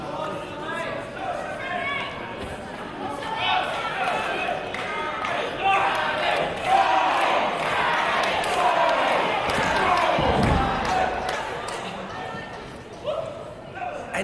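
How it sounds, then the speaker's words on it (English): A large indoor wrestling crowd in Swanley cheers and chatters continuously during a singles match, with thuds and slams rising through the noise and a loud burst of cheering near the end. "And you can hear the love and admiration that this Swanley crowd has for Sammy Smooth."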